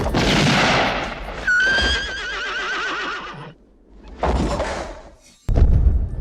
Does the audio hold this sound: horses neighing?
yes